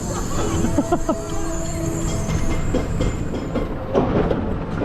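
The Six Ring roller coaster train at Jinyang Lake Happy World in Taiyuan, China, rumbles and clacks along its track in a continuous rattling run, with faint crowd voices mixed in.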